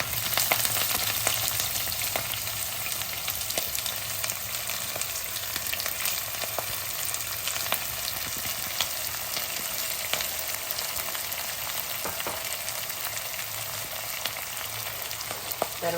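Chopped green chilli and onion pieces fry in a pan for a drumstick-leaf stir-fry, giving a loud, continuous sizzle with occasional clicks of stirring throughout, no voices.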